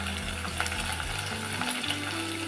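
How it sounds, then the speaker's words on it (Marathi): Coriander sizzles in hot tempering oil for a spicy, tangy fish curry, a loud, close, continuous crackle and hiss with a stirring scrape running underneath. "फोडणीत आपण थोडीशी कोथिंबीर टाकणार आहोत"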